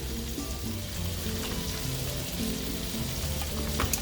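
Garlic and ginger paste frying with vegetables in a pan makes a continuous soft sizzle and crackle, with a faint clink toward the end and no voices.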